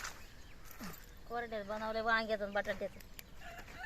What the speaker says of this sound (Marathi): कोंबडा आता वरून खाली येते